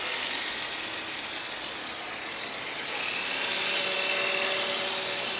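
Absima CR3.4 Sherpa RC crawler, a Jeep Rubicon model, runs its electric motor at full throttle as a steady, loud high-pitched whine that holds continuously and rises slightly toward the end.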